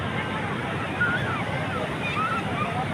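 Breezy afternoon seashore at Cox's Bazar, a steady wash of waves and wind noise filling the scene, with a faint crowd murmur in the background.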